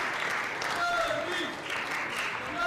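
A table tennis crowd at the Europe Top 16 2022 applauds steadily and loudly after a rally, with a dense patter of clapping throughout and voices mixed in.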